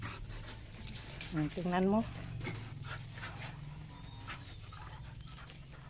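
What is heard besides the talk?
dog panting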